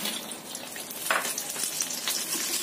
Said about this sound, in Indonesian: Setelah minyaknya benar-benar panas, kita masukkan lagi.